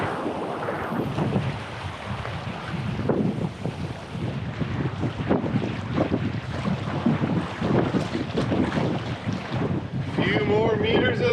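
Strong gusting wind buffets a canoe on an Arctic river, blustery roaring and flapping against the microphone with water sloshing beneath, rising and falling in surges.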